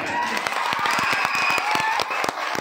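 Crowd clapping at a live comedy performance, a burst of quick sharp handclaps that holds steady at moderate loudness for a few seconds.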